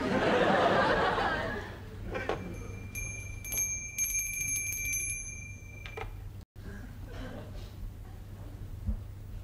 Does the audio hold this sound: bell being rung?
yes